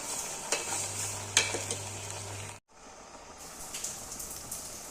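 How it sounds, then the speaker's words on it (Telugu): Okra frying in a pan makes a steady crackling sizzle with a few stirring clicks, cut off briefly by a moment of silence before the sizzle returns. "ఈ పాత్రలో వేసి 2 నిమిషాలు వేయించుకుందాం."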